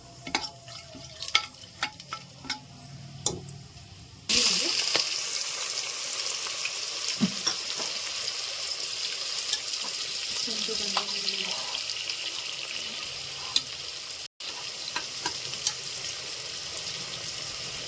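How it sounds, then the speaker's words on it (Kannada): A spoon of homemade ghee sizzles with cloves and star anise frying in the pan, with stirring scrapes and clinks. After a quiet start with a few taps, a steady sizzle takes over, close up and moderately loud. "ಮನೇಲಿ ಮಾಡಿರೋ ತುಪ್ಪ 1 ಸ್ಪೂನು, ಪಲಾವ್ 2, ಮರಾಠ ಮೊಗ್ಗು, ಸ್ಟಾರ್ ಹೂವು 2. ಸ್ವಲ್ಪ ಫ್ರೈ ಆಗಲಿ"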